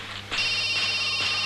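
A telephone ringtone in a Hindi-dubbed action movie starts abruptly and sounds loud and steady, electronic tones ringing without any talking.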